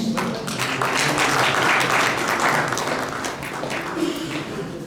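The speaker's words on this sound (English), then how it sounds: "Please, big round of applause, please." An audience at a community farewell ceremony for a welfare counselor applauds steadily during a bouquet presentation, with even, continuous clapping at moderate volume from start to finish.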